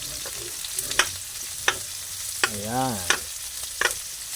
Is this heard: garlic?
yes